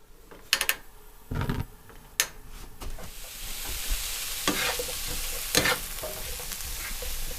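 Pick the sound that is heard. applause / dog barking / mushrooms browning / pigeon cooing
mushrooms browning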